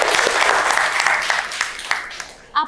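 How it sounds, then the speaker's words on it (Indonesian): Applause from a classroom of students for their classmates, a brief burst of clapping that is dense at first and then thins out and fades. "Tepuk tangan untuk temannya."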